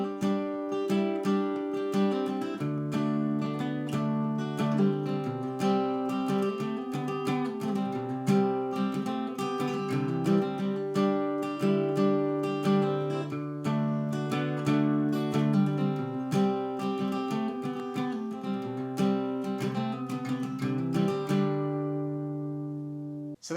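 Guitar intro of a song at regular speed, played alone as a steady stream of picked notes and ringing chords for over twenty seconds before fading out.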